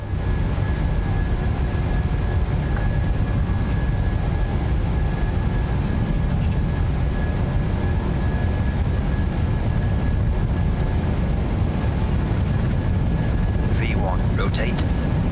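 Boeing 737 jet engines roaring at takeoff thrust in Microsoft Flight Simulator, a steady, loud, continuous rumble with a faint tonal whine running throughout, without a break.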